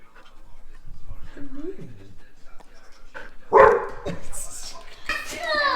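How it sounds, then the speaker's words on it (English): Dogs bark in a few short, sharp bursts toward the end, preceded by a brief whine, with people talking over and around them. "Look at all the doggies."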